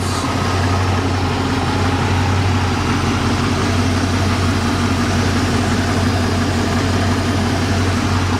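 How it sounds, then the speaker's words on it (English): A stock 1976 Mustang Cobra engine with new spark plugs and belts idles steadily, a loud continuous low rumble heard up close with no other sounds. "Here is the engine. All stock engine."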